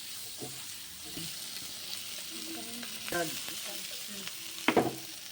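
Soaked paneer with salt, turmeric and chili powder frying in a pan: a continuous close sizzle with scattered clicks and scrapes of stirring, ending in a brief louder crackle.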